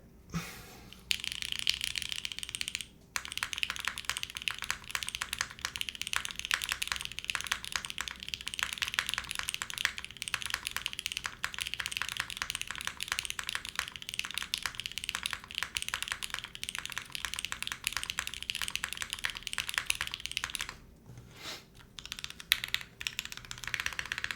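Typing on a Keycult TKL mechanical keyboard: steady, fast, close clacking of keys with a few brief pauses, running continuously and alone without any voices.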